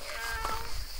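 A young child imitates a cat with a single short, high meow, close and clear, outdoors at a rural Sicilian property with an olive grove.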